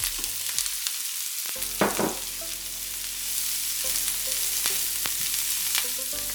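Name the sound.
onions and carrots frying in cooking oil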